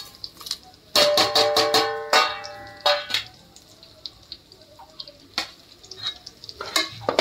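Whole spices crackle and fry in a pan with browned onions, with repeated sharp metallic clinks and scrapes of a utensil against the pan in quick bursts over a low background sizzle.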